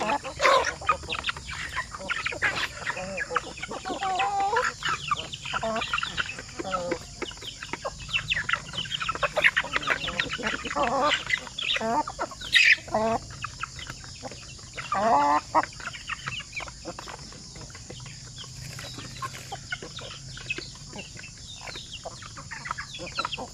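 Native chickens about 10 to 12 weeks old cluck and chatter continuously, a busy flock close by with overlapping calls and occasional louder squawks.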